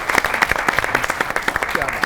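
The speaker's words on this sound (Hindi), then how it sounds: "ताली" A studio audience at a comedy talk show breaks into brisk, dense applause that stays loud and steady throughout, with a voice briefly heard over it.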